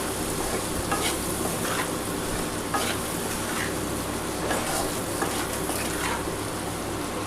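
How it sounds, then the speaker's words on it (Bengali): Onions frying in a pan for an aloo-prawn curry, a steady crackling sizzle with scraping stirs at regular intervals, close and continuous without talking. "পেঁয়াজটা কিন্তু পরে দিয়েছিলাম বলে দেখো একটু ভাজা ভাজা করে নিলাম"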